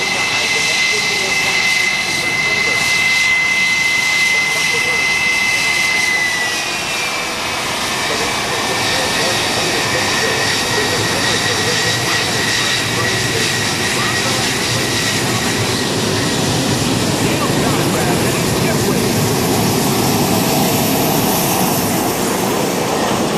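A North American F-86 Sabre jet flying at the NAS Oceana airshow, a loud sustained engine roar with a whining tone, with a voice speaking over it.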